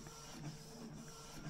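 A Canon Pixma G3430 wireless printer runs a photo print, a continuous mechanical whir and hum with faint periodic rhythmic pulses, steady and close, no talking.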